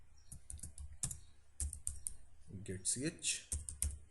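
Keys clatter on a computer keyboard as C code is typed, quick irregular clicks close up, with someone speaking briefly partway through.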